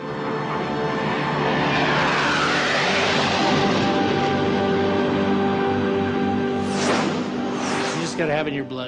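Spirit of America, a jet-powered land speed record car, streaks past at around 1200 km/h, close to the speed of sound: a loud, sustained turbine roar and whoosh that swells and holds for several seconds, with a voice speaking over it.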